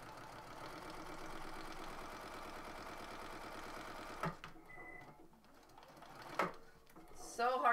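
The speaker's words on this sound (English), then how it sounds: "I'm going to take just a couple back stitches over those first initial stitches to secure it." A sewing machine stitches a couple of back stitches over earlier stitching, running at a steady, even pace for about four seconds before stopping. Quieter handling noises follow.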